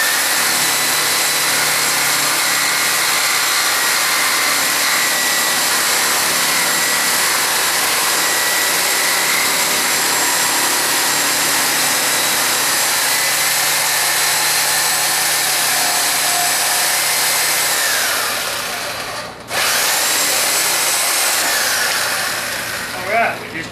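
A power tool cuts through an old hickory handle, a loud, continuous whine and rasp that runs for about twenty seconds before briefly cutting out and then trailing off.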